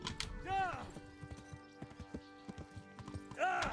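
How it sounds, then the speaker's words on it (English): Hooves clip-clop in a quick, rhythmic gallop in the game Kingdom Come: Deliverance, with a horse whinnying loudly at the beginning and again near the end. "if you hit a fence at a gallop, you get knocked off your horse"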